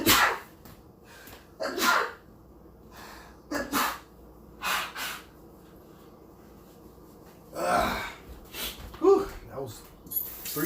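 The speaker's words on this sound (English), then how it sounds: "That was 3 big sneezes" Three loud, sharp human sneezes burst out one after another with pauses between, each followed by breathy gasps and sniffs, close up in a quiet room.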